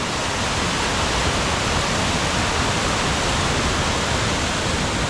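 Water cascades over rocks in Lehigh Gorge State Park, a steady, dense rushing roar that fills the whole stretch without a break, close and loud with no voices.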